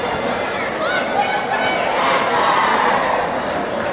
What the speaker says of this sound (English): The Lancer crowd out onto the floor.